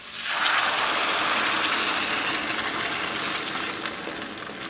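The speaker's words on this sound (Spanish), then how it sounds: "Ahora es momento de agregar nuestra salsa." Salsa poured into a hot pan of cooked onion bursts into a loud, hissing sizzle that starts suddenly and then holds steady, close by, with no talk.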